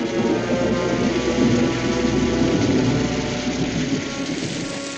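Heavy rain pours steadily with deep rolling thunder underneath, a dense continuous storm roar close by and loud throughout, easing slightly near the end.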